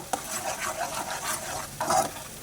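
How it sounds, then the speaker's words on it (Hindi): Onions frying toward golden brown for green chilli keema, a soft sizzle broken by repeated scraping stirs of a spoon in the pan, with a louder clatter of stirring near the end, nobody speaking. "प्याज को हम ब्राउन करेंगे, गोल्डन ब्राउन करेंगे।"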